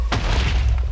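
A booming explosion in Minecraft starts with a sharp onset and then rumbles heavily and loudly through the rest of the moment, with no voices over it.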